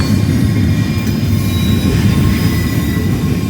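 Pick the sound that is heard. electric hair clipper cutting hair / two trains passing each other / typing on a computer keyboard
two trains passing each other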